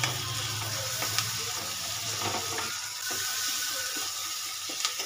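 Tomatoes with salt sautéing in a pan over a gas flame, giving a steady, fairly close sizzle with faint scraping and clinking now and then, no voices.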